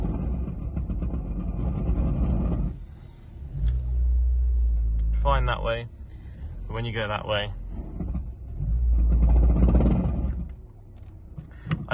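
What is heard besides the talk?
Vauxhall Corsa making a noise reversing while turning left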